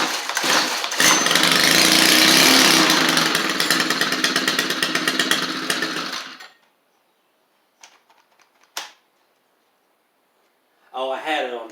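A Stihl string trimmer with a Hipa replacement carburetor fires up loud and close after a pull-start, running roughly and rattly for several seconds before dying, followed by a few short mechanical clunks and then a voice.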